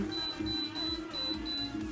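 A kitchen cooking appliance beeps as its menu and timer are set to 180 degrees for frying vadas: a run of short, high electronic chirps spaced evenly over a low background hum.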